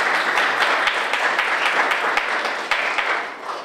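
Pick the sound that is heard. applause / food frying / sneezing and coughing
applause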